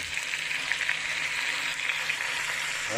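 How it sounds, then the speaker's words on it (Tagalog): Shrimp sauté in a hot pan with a steady, close, continuous sizzle and faint crackles, no voices over it. "Sote ko lang to ha. Sote lang natin."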